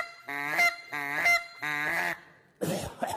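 A handheld Canada goose call imitates a goose, giving three loud, close honks in a steady rhythm followed by a shorter, rougher squawk.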